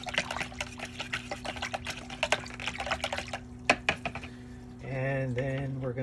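Water mixed with a treatment solution pours into a coral quarantine container, a steady splashing stream with scattered drips and clinks, followed by a brief hum at the end.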